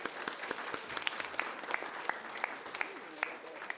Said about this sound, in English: We'll give you a round of applause for your success.